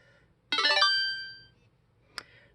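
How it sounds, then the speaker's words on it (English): A phone notification chime goes off as Google Pixel Buds (2020) earbuds begin pairing: a bright, ringing tonal burst that fades over about a second, then a short single ping follows, in a quiet room. "there's our notification."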